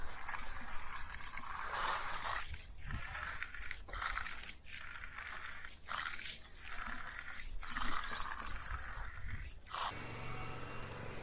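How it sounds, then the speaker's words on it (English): A steel trowel scrapes across hardening concrete in repeated rasping sweeps, a gritty swish with each stroke, close and fairly quiet. "When the concrete sounds like this under your steel trowel"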